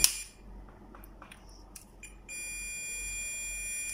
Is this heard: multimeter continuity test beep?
yes